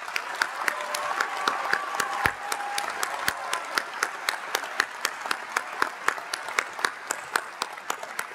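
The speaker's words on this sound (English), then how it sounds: "let's give them a big round of applause" Audience at a university commencement ceremony claps steadily after graduates move their tassels, with a rhythmic pulse of hand claps cutting through the broad, sustained applause of a large indoor crowd.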